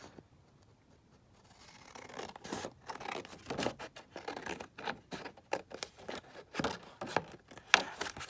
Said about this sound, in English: I'll just cut this out.